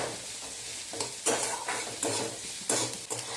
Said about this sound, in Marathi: सोनेरी रंग येईपर्यंत आपल्याला हा कांदा परतवून घ्यायचा आहे